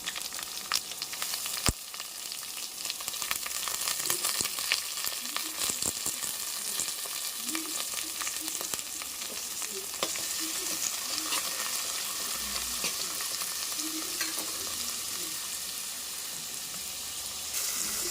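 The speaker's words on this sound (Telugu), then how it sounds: "పచ్చిమిర్చి, అలాగే నానబెట్టి ఉంచుకున్న రొయ్యలు బాగా వేపేద్దాం" Soaked prawns and green chillies fry in a pan for a steady, fairly loud sizzle lasting the whole stretch, with an occasional stir or clink and a sharp knock near the start.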